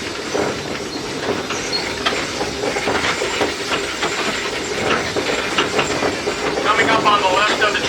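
Cripple Creek railroad train rolling along its tracks through old mining country, a steady rumbling clatter with hiss and squealing wheel tones rising near the end, continuous and moderately loud.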